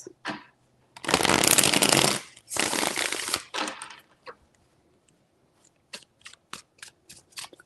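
A deck of cards is shuffled up close in a few loud riffling bursts, followed by softer taps and flicks of cards being handled, with no talking.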